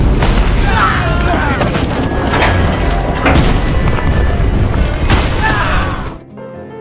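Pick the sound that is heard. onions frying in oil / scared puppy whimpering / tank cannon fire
tank cannon fire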